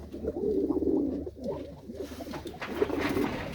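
A pigeon gives low cooing phrases in two bursts, near and fairly quiet, with light background noise between.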